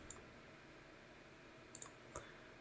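Mouse clicks while working in the Roll20 virtual tabletop, a few quiet, crisp clicks, one early and then a quick pair and another single, over faint steady background hiss.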